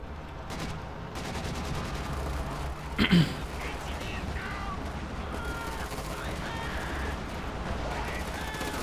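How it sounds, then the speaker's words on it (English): Heavy gunfire and tank cannon fire from a Panther in Company of Heroes 2, a Soviet versus OKW battle: dense continuous firing with one sharper loud blast around the middle, a voice commenting over it. "plastering the front line with the Panther with heavy fire"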